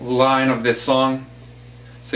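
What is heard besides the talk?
No everyday noise stands out behind the speech.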